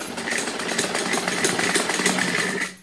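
A sewing machine runs steadily while stitching a semi Patiala salwar, a loud, close, continuous mechanical whir with rapid needle pulsing that stops abruptly at the end.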